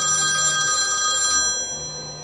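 A telephone bell rings in a bright, steady trill that holds for over a second and then cuts off, leaving a faint fading tail, close and clear with no talk.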